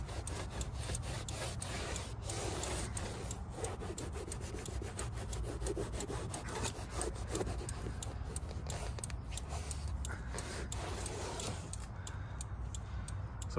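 Microfiber cloth with all-purpose interior cleaner wiped over a car's interior surfaces, making a continuous scrubbing rub with a steady back-and-forth rhythm, close and alone.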